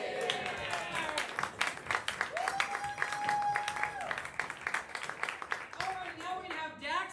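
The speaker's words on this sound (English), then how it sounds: "On the count of 3, we're going to yell, get out of here with a round of applause." An event crowd claps and cheers together, with energetic, uneven clapping mixed with shouted voices and a brief whistle-like tone cutting through the middle.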